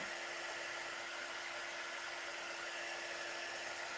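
A big heat tool blowing hot air onto a wooden cutting board, a steady, close, loud rushing whoosh with a constant hum, unbroken and alone.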